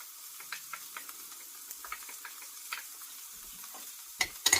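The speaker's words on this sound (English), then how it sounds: "we'll get those sauteing" A shallot sautés in a pan, giving a soft, continuous sizzle with light stirring clicks throughout and a couple of louder scrapes at the end.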